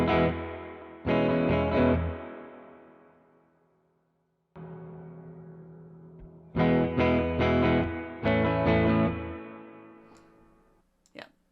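A distorted electric guitar runs through a Benson Chimera amp plugin with reverb placed after the amp, playing loud sustained chords with tails that ring out and decay, followed by a pause and more chord stabs.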